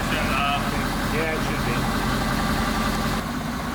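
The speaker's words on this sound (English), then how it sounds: "Thankfully, the engine fired up on the first try with no issues." A car engine idles steadily just after its first start-up on a SEMA build project, a continuous rumbling drone with voices and brief whistly sounds over it near the start.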